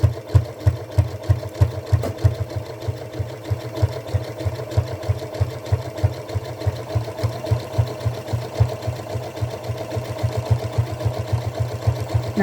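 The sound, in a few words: sewing machine stitching the edge of fabric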